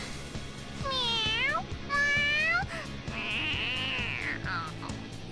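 Morgana the cat in the video game Persona 5 meows three times in a row, loud and close, the last call more strained and wailing, with a voice talking over the game sounds.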